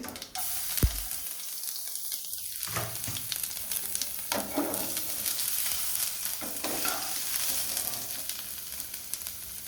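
Chopped garlic and cumin fry in oil in a pan, a steady close sizzle with stirring scrapes, continuous and fairly quiet, with no voices.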